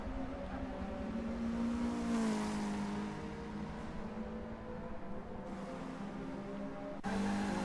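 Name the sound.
race car crashing into tyre barrier, BTCC racing video game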